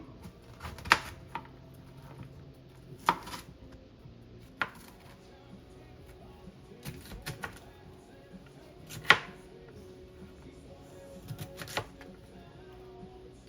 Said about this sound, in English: we're going to cut the cauliflower into bite-sized pieces